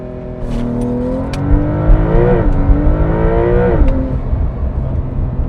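A Porsche 911 launches hard under launch control, its flat-six engine revving up through several rising sweeps as it shifts through gears, loud and close from inside the car with no talk.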